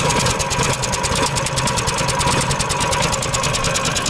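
A Koira motorized towing unit, newly assembled, idles steadily right after starting, its engine giving a close, loud, even chugging rhythm throughout with no talking.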